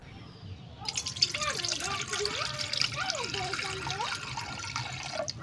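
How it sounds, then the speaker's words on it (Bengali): Water poured into a wok for making an evening snack, a steady watery trickle with drips, running under a voice that talks over most of it. "নাস্তা বানানোর জন্য কড়াইয়ের মধ্যে পানি ঢেলে দিল"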